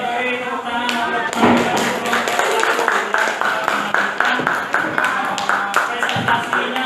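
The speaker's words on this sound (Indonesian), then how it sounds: "kita beri tepuk tangan untuk" A classroom audience at a school presentation claps together in a steady rhythm of patters and thuds, while voices carry on underneath the applause.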